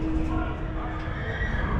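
A rescued Clydesdale horse whinnies loudly and shakily right up close, with hooves shifting underneath over a rumbling outdoor background.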